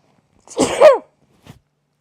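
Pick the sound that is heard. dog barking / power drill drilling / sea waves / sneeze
sneeze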